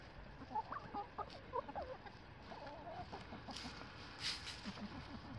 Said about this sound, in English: Billie Jean's been hanging out a lot in the coop today, looking for eggs to sit on